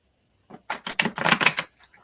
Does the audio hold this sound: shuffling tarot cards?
yes